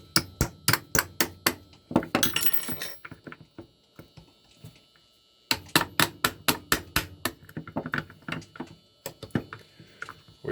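Light metallic taps from AR-15 trigger and hammer assembly come in two rapid runs of sharp, evenly spaced strikes, close and crisp, split by a short pause and a brief scraping rustle.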